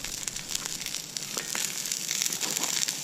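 Sweet Italian fennel sausages sizzle and spit on a Camp Chef FTG600 flat-top griddle, a dense, steady frying hiss with scattered crackles and pops, close and fairly loud throughout.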